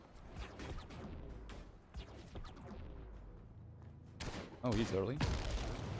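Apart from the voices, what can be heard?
explosions in the video game Gemini: Heroes Reborn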